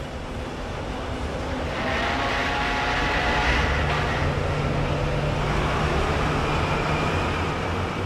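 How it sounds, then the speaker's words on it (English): Lorries rumbling in and out of the dock gates at the Port of London, a dense, steady roar of heavy traffic with a continuous engine drone and no voices. "An endless stream of lorries rumbled in and out of the dock gates, piled high with their precious loads of exports and imports."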